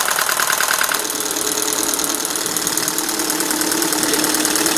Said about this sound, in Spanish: El ruido ya es notorio, disminuye porque los impulsadores hidráulicos ya están cargados de aceite.